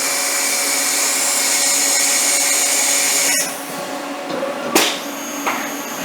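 CNC machine drilling plastic, a steady loud whine of the spindle that drops and shifts partway through, followed by a sharp burst and quieter running.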